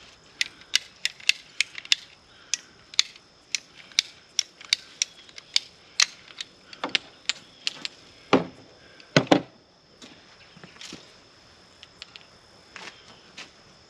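Half-inch PVC pipe being cut with a ratcheting cutter, a run of sharp rapid clicks followed by a few louder crunching snaps as the blade bites through, close.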